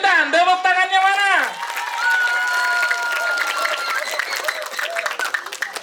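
An audience at a stage event claps and cheers, the clapping rising after a musical, sung-sounding voice, with scattered crowd noise and talk mixed through.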